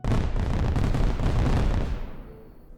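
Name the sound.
fireworks sound effect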